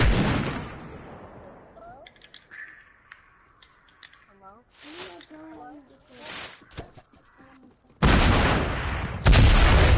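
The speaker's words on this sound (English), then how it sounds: "I was shooting at you because I wanted to, okay?" Video game gunfire in Cizzors Death Run comes in scattered sharp shots, with dense loud bursts near the end, mixed with tonal game effects while a player talks.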